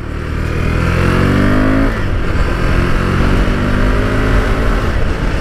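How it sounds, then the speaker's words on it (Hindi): A KTM Duke 390 motorcycle accelerating on the road, its engine note rising steadily in pitch, dropping briefly on a gear change, then climbing again, loud and close, with no talk. "ओ यार, मैं थ्रॉटल पूरा दे ही नहीं रहा हूँ, इतने जल्दी स्पीड गेन कर लेती है ना।"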